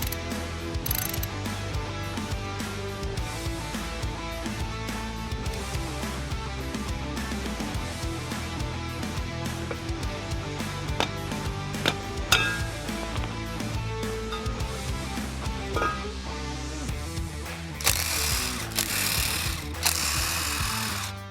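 Tools work on the hub and drum assembly of a 1967 Jeepster brake, giving a long run of loud ratcheting and mechanical clicking with clanks. Near the end comes a burst of harsher grinding noise.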